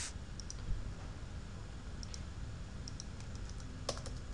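Computer keyboard keys are tapped in a few sparse, quiet clicks over a steady low background hum, with no voices.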